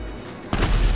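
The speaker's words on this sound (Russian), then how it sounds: "Ух, эта бочка взрывается. Сейчас рванет." A barrel explodes on a zombie-apocalypse dead-city map in GTA 5, a single loud boom that bursts in partway through and stays as a rumbling blast to the end.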